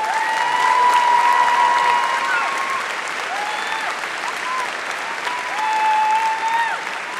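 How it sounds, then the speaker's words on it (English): Sustained applause from a large convention crowd at MineCon 2012 fills the room, steady and dense with a slight swell near the end and scattered whistles or cheers riding on top. "huge round of applause"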